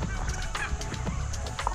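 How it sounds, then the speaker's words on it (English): Several turkeys gobble and chatter close by, overlapping calls bursting out in quick, warbling clusters against a busy background. "I'm going to just check these turkeys out this morning."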